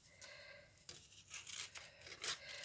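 Scissors snip through thin card for a flower-shaped shaker wedding bouquet, a few short close cutting and crinkling sounds, quiet and alone.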